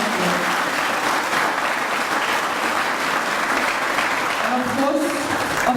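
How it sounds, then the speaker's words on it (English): Sustained applause from a crowd at a graduation ceremony in Fiji fills the whole stretch, a steady dense roar of clapping with a voice faintly audible near the end. "A round of applause."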